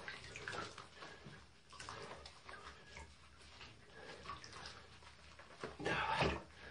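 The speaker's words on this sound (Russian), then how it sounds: "Вода так плохо уходит." Bathwater sloshing and draining in a bathtub while a cat is washed, a continuous watery wash with splashing bursts, louder near the end.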